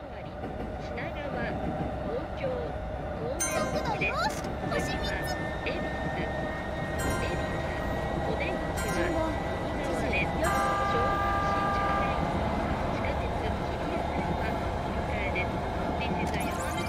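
A JR East train runs along Tokyo's Yamanote Line in the Densha de GO video game, with a steady rumbling roll, some clicks and a high whine, while a person talks over it throughout.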